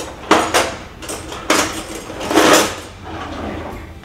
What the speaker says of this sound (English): whisk this together. Make sure there's no lumps.